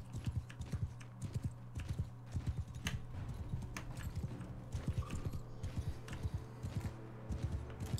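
Horses' hooves clip-clop in a steady, busy rhythm in the Mount & Blade II: Bannerlord video game, several mounts moving together at close range beneath a low, constant background hum, with no talking.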